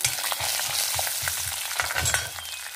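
Mustard seeds, chopped cashews, urad dal, chana dal and curry leaves fry in hot oil for a quick raw-mango rice. The sizzle is steady and close, broken by soft stirring taps, and no one talks.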